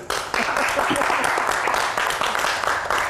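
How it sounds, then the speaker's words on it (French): Enthusiastic applause from a crowd, dense steady clapping that fills the whole moment, close and loud. "Ça s'applaudit quand même."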